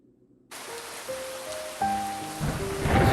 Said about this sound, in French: Je me réveille avec le bruit de la pluie.